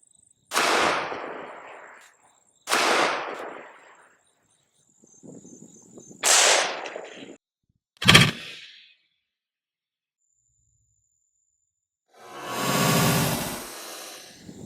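Glock 37 pistol in .45 GAP firing 200 grain Speer Gold Dot rounds: four sharp, loud shots spaced a second or two apart, each with a ringing decay, followed after a pause by a longer rumbling swell.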